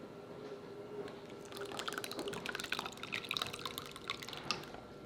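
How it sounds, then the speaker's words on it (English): Liquid is poured into crumbly Southern cornbread stuffing, a soft trickling and splashing that builds after a quiet start and continues in irregular bursts nearby. "now we're gonna put our liquid in"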